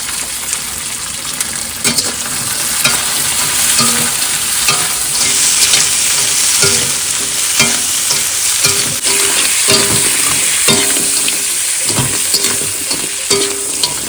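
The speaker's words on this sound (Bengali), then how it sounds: "আমি কাঁকড়া কিছুটা পরিমাণে ভেজে নিয়েছি" Crab fries in a pan with onion, garlic and ginger on a boat, a loud continuous sizzle with repeated clanks and scrapes of stirring throughout, nobody speaking.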